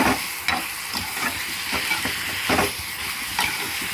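Salt, chilli powder and turmeric being stirred into a frying curry of raw mango, aubergine and green gram, with repeated scraping strokes about every half second over a steady sizzle and hiss of hot oil.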